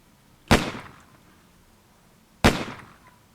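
An origami paper gun fires two sharp, loud pops about two seconds apart, each a crisp snap with a short decay, in an otherwise quiet room.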